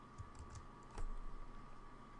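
Code being typed on a computer keyboard, a quiet run of soft key taps over a steady hum with one slightly louder cluster of strokes partway through, no voices.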